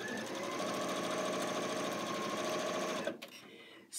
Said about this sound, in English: Let me just sew that in.